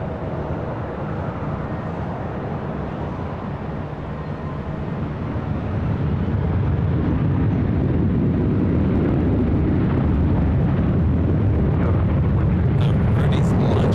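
Delta jet departing runway 24 Left at LAX, a broad low roar that swells and grows steadily louder across the clip, with voices talking over it.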